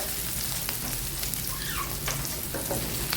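Onion frying in a pan for a barbecue-style dish: a steady, close sizzle and crackle with faint stirring, continuous throughout with no talking.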